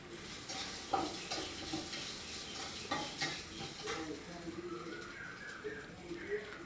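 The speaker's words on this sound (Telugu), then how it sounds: "కరివేపాకు వేస్తున్నానండి" Curry leaves drop into hot oil for pongal and set off a soft crackling sizzle that runs for several seconds while a spoon stirs the pan gently, fairly quiet and close.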